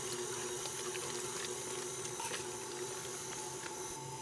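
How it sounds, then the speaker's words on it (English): An electric mixer runs steadily as a can of crushed pineapple is blended into gumdrop cake batter, making a continuous close whirring hum with a watery churning texture and no pauses. "I'll turn the mixer back on, and we'll just mix that in."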